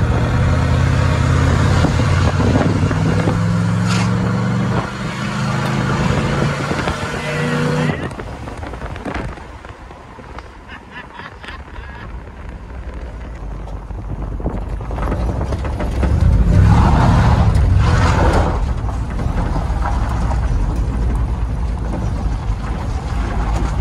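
A rebuilt 1979 Chevrolet Monte Carlo lowrider engine runs with a steady low hum and rumble that swells and fades, mixed with outdoor wind noise and clattering.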